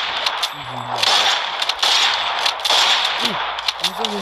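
Rapid gunfire from the mobile shooter Free Fire, a dense run of loud crackling shots landing a headshot, with game effects and a voice speaking briefly underneath.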